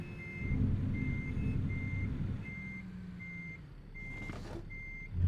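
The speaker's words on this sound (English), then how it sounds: "Wait, where did that truck come from?" A truck in American Truck Simulator, its engine drone rumbling low and steady while a repeating reversing beep sounds at regular intervals, with a brief hiss of air near the end.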